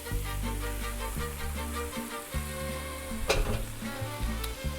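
Two pounds of 85% ground meat sizzle and fry in a chili pot while being stirred, a close, steady crackling hiss with scraping strokes repeating throughout.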